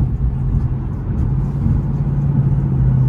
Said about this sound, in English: Nice little rumble to it.